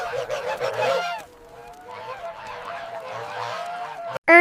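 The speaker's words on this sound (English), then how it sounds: "Look at the geese." Geese honk in a noisy, overlapping flock, loud and close, with a brief lull before the honking resumes and builds again.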